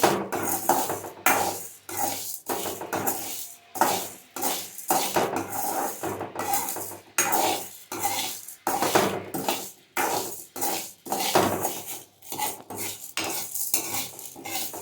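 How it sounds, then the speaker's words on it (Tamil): Mixed ingredients are dry-roasted without oil and stirred in a metal pan, with a steady run of close scraping and clinking spoon strokes in an uneven rhythm and a faint sizzle beneath, no talk. "நான் மிக்ஸ்டாக போட்டு வறுத்து எடுத்துக்கிறேன். எண்ணெய்லாம் எதுவும் ஊற்ற வேண்டாம்."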